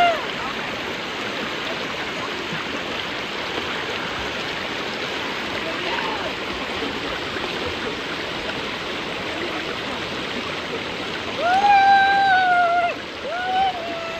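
A village river rushes steadily and close by, a dense continuous wash of flowing water, with a brief voice-like call rising over it near the end.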